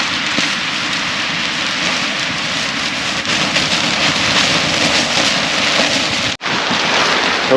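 Steady heavy rain with gusting wind at a cliff-edge campsite just after midnight, a continuous loud wash of drops and rushing air with a brief dropout near the end.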